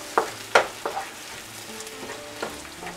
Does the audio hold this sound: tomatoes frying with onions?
yes